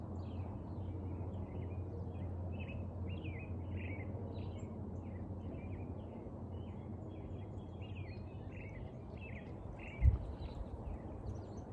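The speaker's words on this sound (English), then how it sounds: "listening to the birds." Birds chirp and sing repeatedly in the background outdoors, faint and scattered over a steady low hum, with one brief thump near the end.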